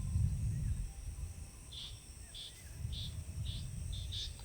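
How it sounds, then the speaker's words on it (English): Steady insect drone fills a rural farm campsite, with repeated short high chirps of cicadas pulsing roughly every half second over a low outdoor rumble, moderately loud and continuous without voices. "That loud noise of the cicadas just fills the air"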